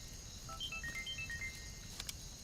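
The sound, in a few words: phone ringing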